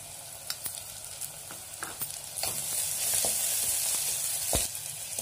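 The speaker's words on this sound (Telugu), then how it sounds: "అల్లం వెల్లుల్లి పచ్చి వాసన పోయేంత వరకు మనం ఫ్రై చేసుకోవాలి." Ginger garlic paste with green chillies sizzles in hot oil, a bright continuous hiss broken by repeated scraping stir strokes and small pops, rising in intensity midway.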